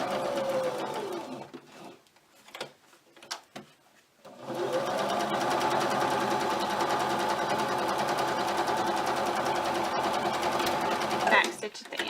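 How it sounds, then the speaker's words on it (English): An electric sewing machine stitches around a small tooth fairy pillow, a steady close whirring drone that runs for several seconds after a few short stop-start bursts, with a voice speaking over the beginning. "I'm going to stitch around these 3 sides."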